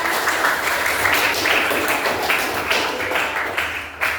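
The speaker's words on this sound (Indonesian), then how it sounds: "Ya, tepuk tangan." A class of teacher-training participants claps after a group presentation, a steady patter of many hands kept up for about four seconds with no gaps, fading slightly at the end.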